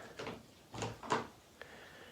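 A wooden door, clamped in place on a workbench, is turned over: a few dull knocks and wooden scrapes in quick succession, fairly close, then a single sharp tap near the end.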